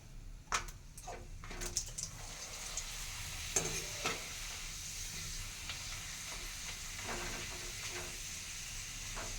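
Papad fries in hot oil with a continuous close sizzle and hiss, broken early on by a few sharp crackles and spatters, then settling into an even fry.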